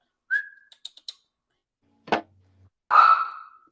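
Someone tries to whistle, producing a few faint, breathy whistle tones and puffs of air scattered among quiet gaps, ending in a short, louder whistled note.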